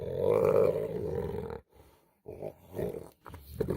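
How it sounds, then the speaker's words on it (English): A lioness injured by a bite to the neck in the Masai Mara gives a loud, rough growl for about a second and a half, then falls to quieter, uneven breaths and weaker grunts, all close up. "It struggles in despair, growl, and weak breathing."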